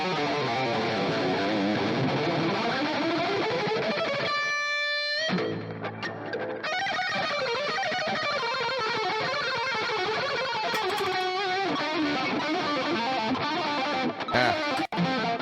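A heavily distorted electric guitar plays a sustained, saturated lead line with thick, smeared tone, briefly dropping out before continuing.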